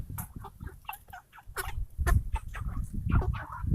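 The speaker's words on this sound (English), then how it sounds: "Day 59, Red Ranger broilers." Red Ranger broiler chickens, about two months old, clucking and murmuring as a flock nearby, with overlapping soft calls and low rustling, fairly loud and free of talk.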